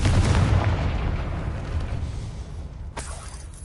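A Confringo blasting spell detonates in Hogwarts Legacy: a loud, broad booming blast that rumbles and fades, then a second sharp burst near the end.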